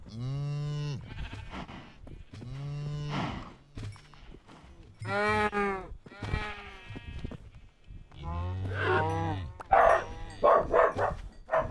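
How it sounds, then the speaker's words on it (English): A dog in Minecraft barks repeatedly among farm animals, sharp yelps and bleat-like calls recurring in bursts across the stretch, fairly loud and close, with a voice talking over part of it. "Why is this dog barking now?"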